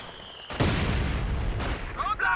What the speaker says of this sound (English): Oh, and that's a mortar from Danny as well.